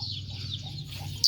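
Chickens on a rural Thai farm make low, soft clucking and murmuring sounds close by, with a short sharp higher cry at the end.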